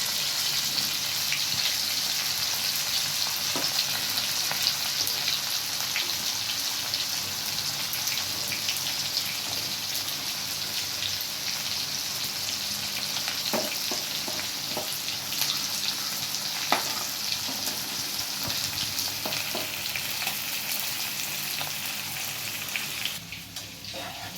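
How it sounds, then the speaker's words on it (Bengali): Steady, dense sizzling of hilsa fish frying in hot oil, continuous crackle and hiss throughout with a few louder pops near the end. "তেল গরম গরম ইলিশ ভাজা পেঁয়াজ"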